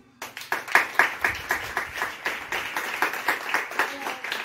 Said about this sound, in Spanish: vamos a pedir aplausos